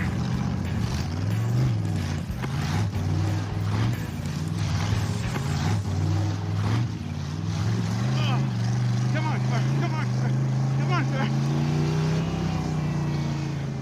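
A 1978 Chevy El Camino with a swapped-in diesel engine drones steadily at high RPM through a lap, a loud continuous rumble with slight pitch shifts, and voices talk over it.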